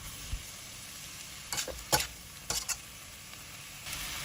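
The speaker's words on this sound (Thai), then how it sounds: "จากนั้นเราก็ผัดต่อค่ะ ผัดไปสักแป๊บหนึ่งนะคะ คลุกเคล้าให้ส่วนผสมทุกอย่างเข้ากันค่ะ" Pork liver stir-fried with holy basil seasoning in a pan, giving a low steady sizzle broken by several short bursts of stirring and scraping.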